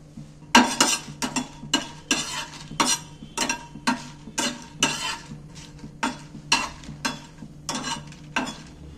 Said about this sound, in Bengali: এইবার আমি শুকনো লঙ্কাগুলো ওই প্যানের মধ্যে নেড়ে চেড়ে ভেজে নেব